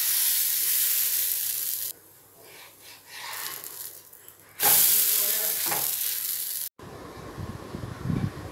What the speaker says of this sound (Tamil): பேன் நல்லா காய வச்சுட்டு நம்ம இப்போ அடையாக ஊற்றிக்கலாம்.